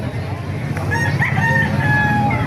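A White Kelso rooster crows once, a drawn-out call heard at moderate distance over a steady background hum, with no talking.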